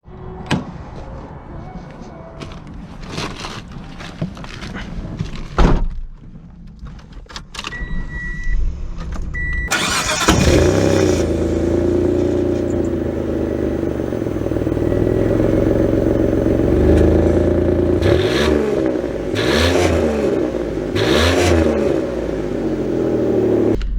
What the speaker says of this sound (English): So we are setting off here in the VR-4.